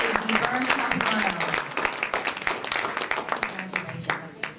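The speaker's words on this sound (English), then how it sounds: "big round of applause" An audience at a community coalition dinner applauds a scholarship award, scattered claps rising and thinning over a voice and room chatter.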